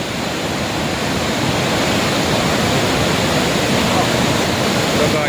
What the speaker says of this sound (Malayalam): എന്ത് സ്ട്രോങ്ങിലാ വെള്ളം വരുന്ന നോക്കാം